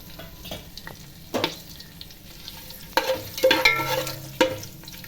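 Whole spices such as cinnamon, cloves, cardamom, mace and star anise frying in groundnut oil for Kongu Nadu biryani, a soft continuous sizzle with a few sharper pops and stirring clinks, no speech.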